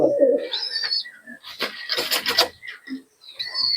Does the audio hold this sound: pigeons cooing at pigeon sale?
yes